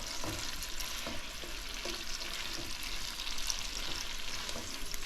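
Food sautéing in a pan, a steady close sizzle with faint stirring scrapes throughout, moderately quiet and continuous without talk.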